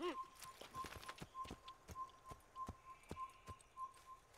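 Horse hooves clip-clop at a steady walking rhythm in the Assassin's Creed video game, set in the city of Acre, moderately close, with a faint whistle-like tone running underneath.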